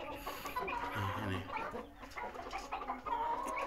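Ayam Cemani chickens, a medium-sized village-type breed, clucking and murmuring close by in a pen, with steady overlapping calls and a brief spoken word over them.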